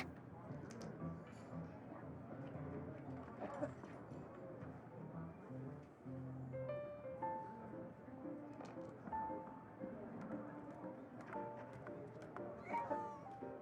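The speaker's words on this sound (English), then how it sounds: "how can he get all of that from a simple meow?" A few cat meows sound faintly through a quiet background of game sounds, with voices talking intermittently.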